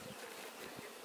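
Honeybees buzzing steadily at the last hive of a spring apiary inspection, a close, continuous dense hum with no voices.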